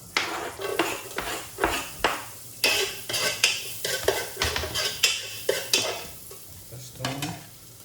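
Garlic sautés in dairy cream in a pan, a steady sizzle under rhythmic scraping and clinking of a utensil stirring against the pan, roughly two strokes per second, close and fairly loud.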